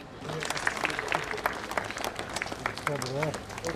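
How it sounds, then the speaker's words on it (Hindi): An audience at the inauguration of an amphitheater and light-and-sound show at Bagh-e-Bahu in Jammu claps steadily, a dense, sustained applause under a presenter's amplified voice. "इस बीच आप सबकी जोरदार तालियां बजती रहें तो अच्छा रहेगा।"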